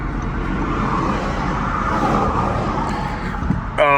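A car passes on a roadway, a steady, loud broadband roar that holds throughout, with a brief sharper tone near the end.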